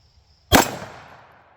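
A Bond Arms Rowdy .45 Colt fires a single loud, close gunshot, a sharp crack followed by a short fading ring-out, with quiet surroundings before it.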